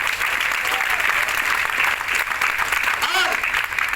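An audience claps loudly and steadily for gurus and mentors at a recognition event, a dense continuous wash of applause close by, with a voice speaking faintly over it.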